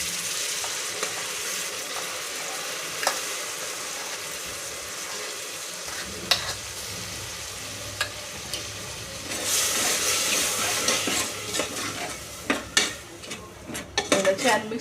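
Curd is stirred into cooked peas in a pan for matar pulao. A soft sizzle sits beneath scattered spoon scrapes and taps, and the frying hiss swells louder and busier toward the end. No one speaks.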